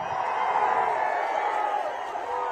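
A large outdoor political rally crowd at Gurazala raises a dense, continuous wash of clapping and cheering, loud and steady throughout with no single voice standing out.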